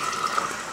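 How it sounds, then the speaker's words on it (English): Tomato sauce poured into a pan of hot extra virgin olive oil infused with garlic: a steady, close, loud hissing gush, continuous throughout with no talking. "at this point, I'm going to pour the tomato sauce."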